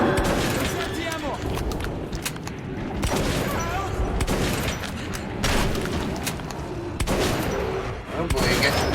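Repeated bursts of gunfire in Metro 2033, loud sharp shots arriving in clusters every second or so over a noisy underground battle, with someone talking between them.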